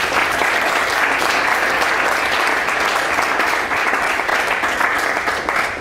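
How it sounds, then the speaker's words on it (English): Sustained applause from a banquet audience celebrating a fundraising total, dense and steady throughout at close range with no voices standing out. "So clap it up"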